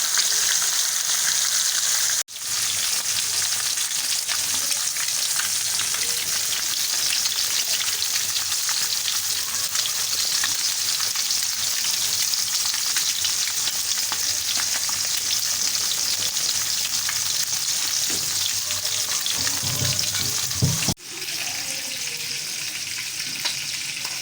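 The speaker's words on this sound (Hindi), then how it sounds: "उधर हमारी फ़िश मतलब कि फ्राई हो रही है" Fish fries in oil with a steady, close sizzle and fine crackling throughout, briefly cut off twice, in a Lahori-style masala fish fry.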